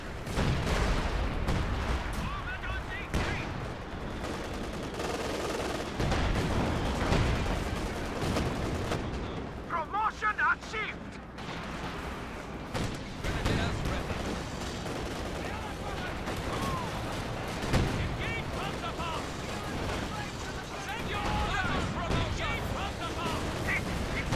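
MG42 machine gun fire in a World War era shooter game, with repeated bursts and gunshots amid battle noise, heard under overlapping talk.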